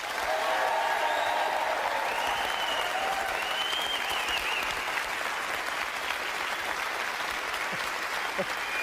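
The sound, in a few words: audience applause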